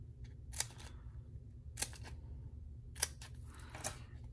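Scissors snip foam adhesive dimensionals in half for a handmade card: four crisp, close cuts spaced about a second apart in a quiet room.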